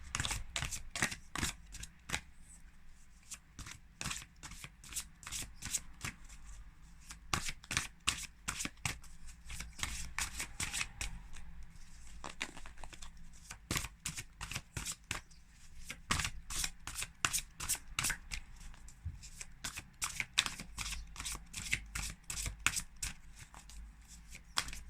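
Oracle cards being shuffled by hand up close, a long run of quick, crisp riffling bursts in an uneven rhythm with no talking.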